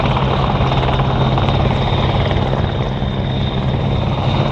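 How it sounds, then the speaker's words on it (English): An RCAF CH-149 Cormorant search and rescue helicopter flies a demo at the Abbotsford International Airshow, its loud, steady rotor and engine roar filling the whole stretch without pause. "CH-149 Cormorant is a fully certified off-the-shelf civilian utility helicopter"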